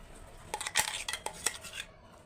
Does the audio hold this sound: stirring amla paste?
yes